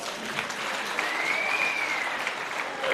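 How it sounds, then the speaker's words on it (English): Audience applause at the ANC Free State provincial conference: a steady, moderately loud wash of many hands clapping from a hall crowd, continuous throughout with no distinct voices over it. "let's give him a round of applause."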